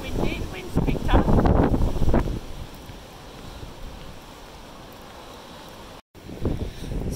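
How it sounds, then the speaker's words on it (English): Wind gusting outdoors on a coastal walk near the Lympstone Commando Barracks, the Royal Marines training base, loud buffeting rumble for the first two seconds, then a steady fainter blow with a brief dropout and another gust near the end. "A bit windy, the wind's picked up."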